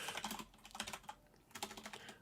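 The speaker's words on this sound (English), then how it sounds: "Don't try typing when you're liquored up" Fingers rattle across a computer keyboard in quick, uneven bursts of close clicks, with a short pause midway before the keystrokes resume.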